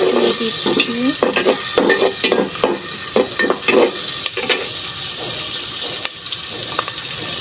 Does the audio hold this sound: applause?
no